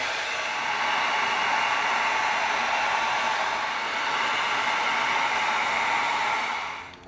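Steady loud blowing roar of a heat gun sealing EVA foam for an Astro Blaster prop, running continuously without talk and tapering off at the end.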